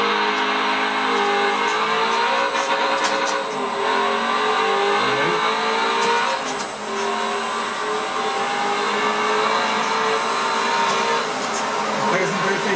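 A racing car's engine in a Forza game, held in second gear without braking, drones and revs steadily throughout at a loud, sustained pitch with small dips, no voice over it.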